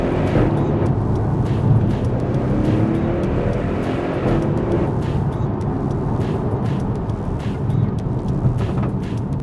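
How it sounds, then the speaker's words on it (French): Audi RS6 C7 Performance engine and exhaust while driving, a loud, steady low rumble and blowing roar that continues without a break, with no talk over it. "Le son à l'échappement est plutôt cool"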